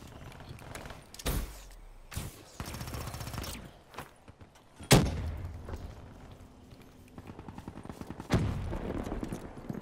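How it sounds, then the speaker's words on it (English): Sniper rifle gunfire from the Ballista in Call of Duty Black Ops III, several loud sharp shots spaced apart amid other bursts and game clatter in a busy multiplayer match. "He got the ballista gun."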